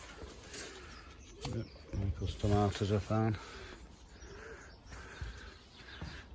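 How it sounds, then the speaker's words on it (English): Pigeons coo nearby in a garden, soft low repeated calls in short bursts, partly beneath a voice speaking in the middle. "Pigeons everywhere."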